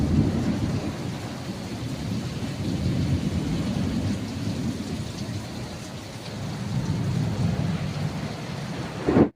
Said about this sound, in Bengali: প্রচণ্ড জোরে বিদ্যুৎ চমকাচ্ছে